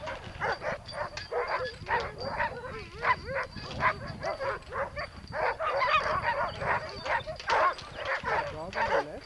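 Sled dogs on a glacier bark and yip excitedly in a rapid, overlapping chorus, loud and close, with a person talking underneath.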